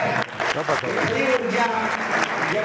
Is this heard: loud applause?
yes